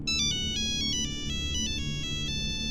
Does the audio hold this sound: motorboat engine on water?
no